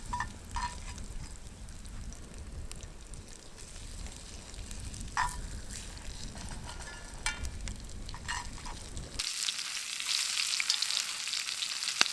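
Fish fillets fry in a pan at a remote campsite, a steady crackling sizzle with scattered pops running throughout, loud and close, briefly turning brighter and hissier near the end.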